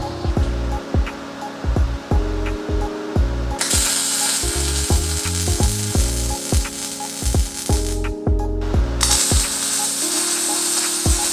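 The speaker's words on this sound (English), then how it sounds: "we're going to fire a new good weld in there" A new weld is laid on a Harley-Davidson Sportster hardtail frame, a close, steady crackling sizzle with broadband hiss and rapid ticking that runs through most of the stretch, breaking off briefly once, with no talking.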